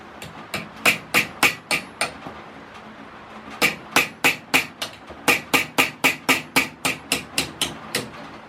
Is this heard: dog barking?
no